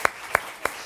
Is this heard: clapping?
yes